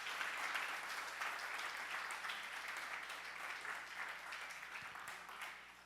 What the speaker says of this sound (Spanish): Le damos palmas a Jesús porque Él es el único que puede hacer milagros